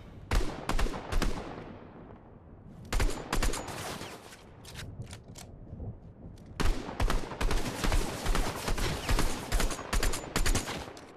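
Gunfire in Fortnite Mobile: rapid, loud bursts of automatic shots, some crisp single cracks, with a short lull before a longer sustained volley near the end.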